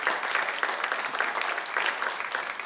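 An audience applauds steadily for Taylor Swift, a dense wash of many hands clapping at a live talk, with no pauses.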